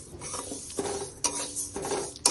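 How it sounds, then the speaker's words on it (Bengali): Mung dal being lightly dry-fried in a wok on low flame before boiling, with scraping stirring strokes recurring every half second or so over a faint sizzle. "মুগ ডালটা দিয়ে ভালো করে ভেজে নিতে হবে"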